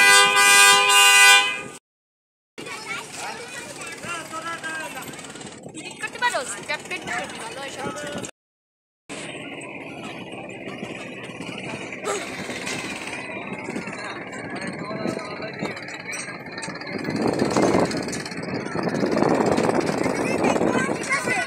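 The passenger launch MV Tipu 12 pulls away from Banaripara with a strong tonal horn blast, then a rumbling engine and mechanical clatter that rise toward the end, while people talk throughout.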